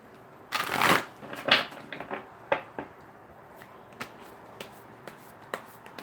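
Tarot-style cards riffle in a couple of brisk shuffles up close, then a series of single crisp card snaps and slides as cards are drawn one by one, with no talk.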